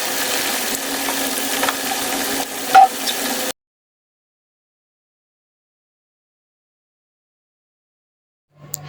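Diced, salted potatoes sizzle steadily in a hot pan for a few seconds, then the sound cuts to silence, with a faint low noise at the very end.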